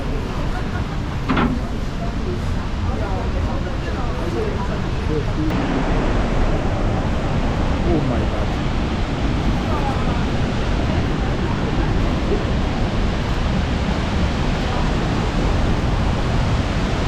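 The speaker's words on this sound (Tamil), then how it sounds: "அருவி சுற்றியான வேகமாக கொட்டுது" Strong waterfall pouring down fast, a steady broadband roar of falling water that runs loud and unbroken throughout, with wind buffeting the microphone and a faint voice now and then.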